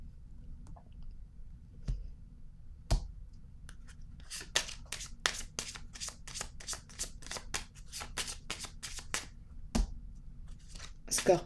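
A tarot card is dealt onto a table with a soft slap, followed by a rapid run of crisp card flicks and shuffles, then a few more isolated taps; no speech.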